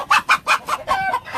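Hens cluck close by in a quick run of about eight short, throaty clucks with brief gaps, loud and clear with no other sound.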